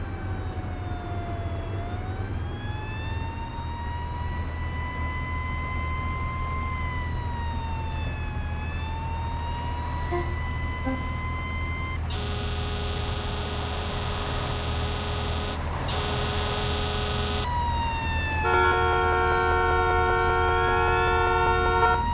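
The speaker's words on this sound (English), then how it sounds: "the annoying sirens in the background, it's directly right next to me actually" An emergency vehicle siren in the bus simulator OMSI 2 wails without pause, very close and loud, sweeping up and down before shifting to fast steady tones, over a constant low hum.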